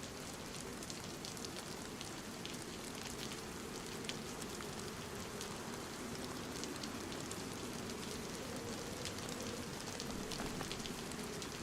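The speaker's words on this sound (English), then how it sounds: "that weird sound it likes to do when it's raining" Steady rain in a video game patters continuously on a surface, a dense even hiss with scattered drops, no voices, holding the same level throughout.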